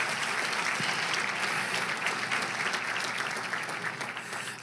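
A church congregation breaks into strong, sustained applause, a broad wash of many hands clapping together that holds steady before easing off slightly near the end.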